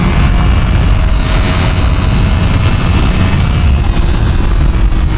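A 2025 Honda CBR1000RR-R Fireblade rides at speed with a continuous loud engine drone heavily buffeted by wind rumble, steady throughout with no break.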